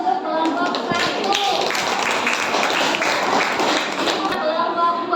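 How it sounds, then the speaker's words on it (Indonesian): A classroom group claps for the first presenting group, dense steady applause filling the whole stretch at even loudness, with some voices mixed in. "beri tepuk tangan dulu untuk kelompok 1"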